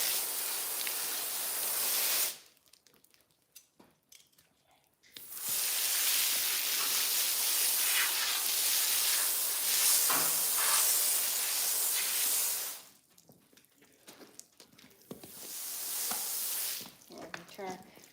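A garden hose sprays water to rinse a mini horse during an outdoor bath, a loud steady hiss that stops twice for a few seconds and then resumes, with quieter handling sounds in the gaps.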